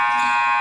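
A basketball half-time buzzer at an amateur league game, one loud, sustained electronic tone lasting under a second.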